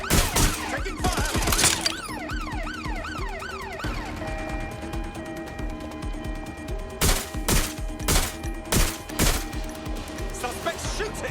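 Gunfire in the video game Watch Dogs Legion: wailing police sirens sweep up and down, then loud, sharp shots crack out in a quick irregular series toward the end.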